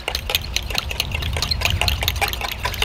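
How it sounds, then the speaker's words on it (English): Apple cider vinegar and olive oil marinade being stirred in a bowl, giving close wet sloshing and clinking strokes in a quick uneven rhythm, with no talking. "Basically what I'm gonna do is stir that up"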